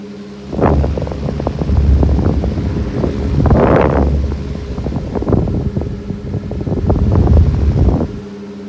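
Electric fan running on its high setting in a bedroom, a steady loud broadband whoosh of moving air with a low hum underneath and slight surges in level, heard alone without talk.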